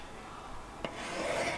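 A knife blade drawn through a KKMoon professional sharpener gives a single short, close rasping pass, quiet and dry, with no voices.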